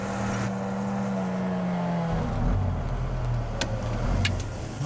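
A car engine rumbles steadily, its low drone shifting as the vehicle pulls off and moves away, with a few faint clicks over the sustained motor noise.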